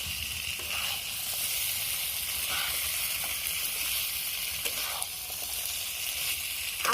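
Drumstick (moringa) stalks frying in a pan, a steady bright sizzle with occasional soft scrapes and clatters of stirring, close and alone.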